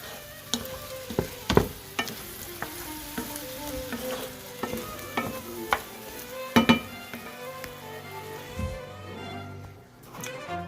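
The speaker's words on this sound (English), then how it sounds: "we want to take a look at our beef. So that's browning nicely." Beef browning in a pan for stew, a soft, steady sizzle under scattered clinks and scrapes from stirring, fairly quiet and close, with no talking.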